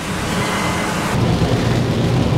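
Heavy, steady rain roaring close by in Jeddah, with a deep low rumble of thunder swelling underneath partway through.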